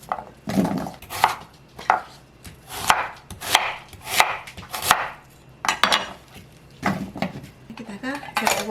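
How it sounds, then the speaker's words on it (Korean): A knife slices half a small radish into thick pieces on a cutting board, about a dozen firm, close chops in an uneven rhythm with light clatter between strokes. "무를 조금 도톰하게 썰었습니다."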